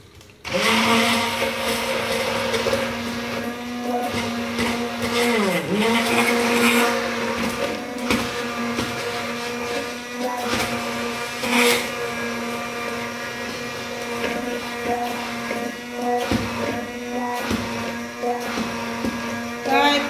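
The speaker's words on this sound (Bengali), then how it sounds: "আমি এখন আমার মেশিনটা আমি অন করতে যাচ্ছি" An electric blender whirs steadily while making homemade mayonnaise, a loud, continuous motor whine with slight pitch dips and wobbles as the mixture thickens.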